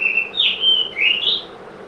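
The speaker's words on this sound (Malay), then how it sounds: "Burung siapa berkicauan tu?" Bird chirping heard from indoors during an online maths lesson: a few clear, bright whistled tweets rising and falling over about two seconds, moderately loud and alone without talk.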